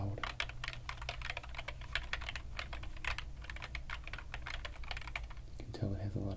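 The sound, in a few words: plastic computer keyboard keys clicking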